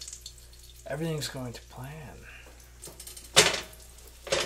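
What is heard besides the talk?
breaded eggplant sizzling while frying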